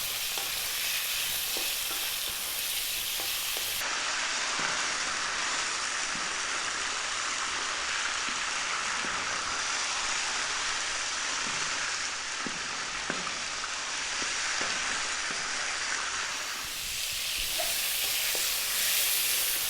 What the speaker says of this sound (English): we're going to drop our pork in and we're going to cook it for about 4 minutes. Keep it moving in this hot oil